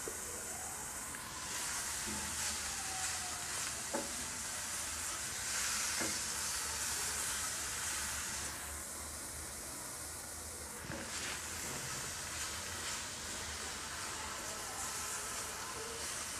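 Broad beans fry in mustard oil in a pan, giving a steady, continuous sizzle and hiss with a few small clicks and pops. The frying carries on evenly throughout at a moderate level, with no talking.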